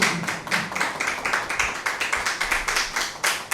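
Scattered audience clapping at a Hindi-Urdu poetry mushaira, uneven and moderately loud, rising in irregular bursts over several seconds with no talk.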